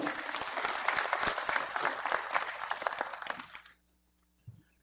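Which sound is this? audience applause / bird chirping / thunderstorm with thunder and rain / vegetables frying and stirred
audience applause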